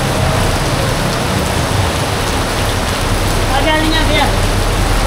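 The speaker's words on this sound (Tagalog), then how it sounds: "Ngayon, nabutan tayo ng malakas na ulan." Heavy rain pours steadily in a dense, constant roar, loud and close, during a motorcycle ride in Bulacan, with a brief faint tonal sound partway through.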